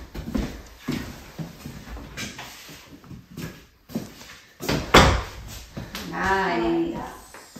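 A newly fitted door swings shut with a single solid knock midway through, while people talk nearby before and after it.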